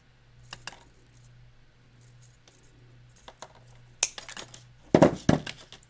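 Cutters snip off the excess ends of plastic zip ties on an armature, giving sparse quiet handling noises and then a few sharp close clicks and plastic clatters toward the end.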